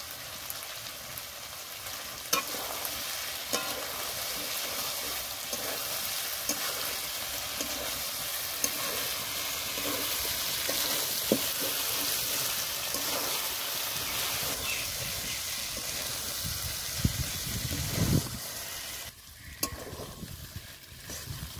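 Eggplant and chopped tomato fry in a pan, making a steady, soft sizzle and crackle that continues throughout, with occasional light stirring clinks near the end.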